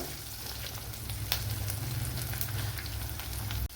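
Garlic sizzling in hot oil in a pan for a Tamil-style garlic kuzhambu, a steady close frying crackle with occasional scrape-like clicks of stirring, no voices.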